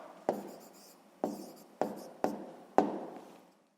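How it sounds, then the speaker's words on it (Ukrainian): Pen strokes on paper as an answer is written by hand: five short, quiet scratching bursts, each starting with a tap and trailing off, close and without talk. "записуємо відповідь"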